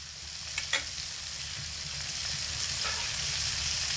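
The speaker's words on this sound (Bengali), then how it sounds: "মিডিয়াম আঁচে রেখে এটাকে আমি ভেজে নেব" Pointed gourd fries in oil over medium heat, producing a steady, even sizzle with a couple of light utensil taps early on and no talking.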